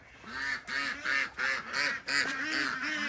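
Ducks and geese on a farm honk and quack in a steady run of repeated calls while being fed, loud and close, with no talk over them.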